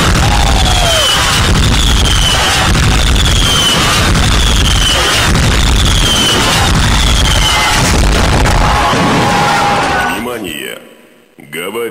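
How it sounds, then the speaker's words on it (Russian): Dense, continuous popping and crackling bursts of a fireworks display with whistling streaks and a cheering crowd, loud throughout before thinning out near the end. "А сейчас наслаждайтесь салютом."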